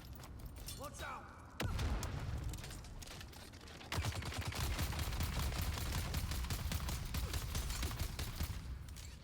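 Gunfire in the video game Dune: Awakening, with a few sharp early shots followed by long bursts of rapid automatic fire rattling on steadily. A player talks over the shooting.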